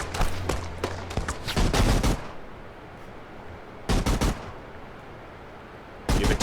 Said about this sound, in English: We're going to do an A-10 gun run right there.